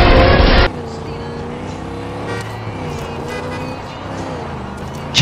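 A car driven in the Far Cry 5 video game hums with a steady engine drone that rises and falls slightly, heard close and continuous after a brief burst of noise at the start.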